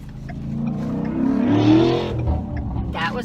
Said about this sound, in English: that was a really loud Mustang.